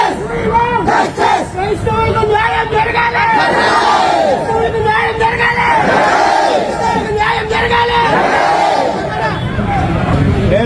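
A large crowd shouting and yelling loudly and continuously, with rising and falling waves of raised voices close by and general babble underneath.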